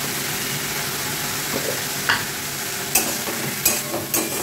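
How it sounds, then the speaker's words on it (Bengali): Spice paste with ground coriander frying and being stirred in a pan over medium-low heat for potoler dorma, a steady soft sizzle with a few sharp scraping clinks of the spoon toward the end. "এবার এটা আমি মশলাটা কষাবো"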